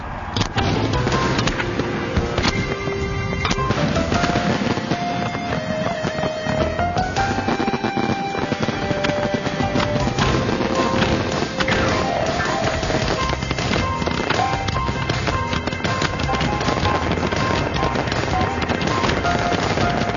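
A fireworks show finale fires continuously, a dense, loud barrage of rapid bursts and crackles that runs without pause for the whole stretch.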